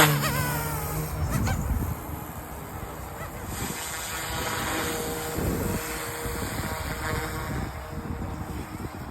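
A Yuxiang F280 RC 3D helicopter whines and buzzes as its rotor spins up, the pitch sweeping and climbing sharply at first, then a steady, fairly faint airborne drone with some wind rustle around it.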